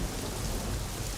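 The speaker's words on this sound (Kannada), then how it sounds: "ಮಳೆ ಜೋರಾಗ್ತಿದೆ" Heavy rain pours steadily in a broadband wash, dense and unbroken throughout, with a low rumble underneath and no voices.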